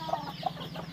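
Hens and chicks on a country chicken farm give a couple of short, faint clucks and peeps close by against quiet background noise.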